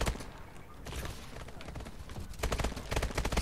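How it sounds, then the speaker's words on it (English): A video game sentry gun fires rapid, close bursts of automated gunfire that grow louder and denser toward the end. "Oh, it's a sentry gun."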